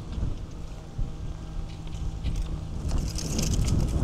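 A steady, rushing roar of strong wind buffeting outdoors, growing louder and gustier toward the end, with no voices.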